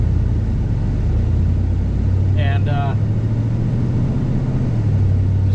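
A car's engine rumbles low and steady from inside the cabin while cruising on the road, a continuous drone with a slight shift in pitch partway, as the driver speaks briefly over it.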